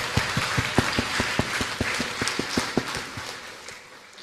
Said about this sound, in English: everyone please give one last big round of applause for Mr.